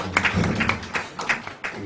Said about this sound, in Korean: 박수가 납니다.